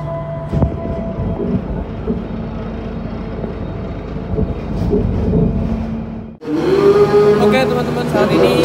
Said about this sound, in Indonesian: saat ini perjalanan kereta api Cikurai sudah sampai di stasiun Cikampek